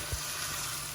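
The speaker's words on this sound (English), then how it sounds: "Keep it well stirred around, and make sure that the heat keeps it simmering." Thai spicy pork, Pad Ped Moo, simmering in a pan with a continuous close hiss and sizzle, steady throughout with no voices.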